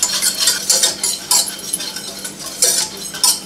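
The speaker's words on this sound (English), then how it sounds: "We're gonna whisk it for about a minute." A whisk scrapes and clinks briskly against a pan as flour is stirred into hot fat for homemade enchilada sauce, a steady rhythmic metallic scratching close up with no talking.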